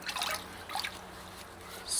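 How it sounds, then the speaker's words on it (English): Water squeezed and trickling out of a wet wash mitt pad after scrubbing car paint, soft close dribbling and splashing in short bursts, quiet and heard without talk. "squeeze, push the water to the outside edge of the pad"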